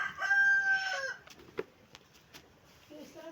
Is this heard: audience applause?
no